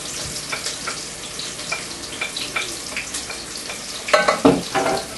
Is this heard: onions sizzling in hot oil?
yes